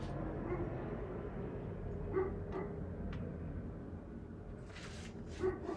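Faint, distant barks and yips from a neighbor's dog come in a few scattered bursts over a steady low background, with no one speaking.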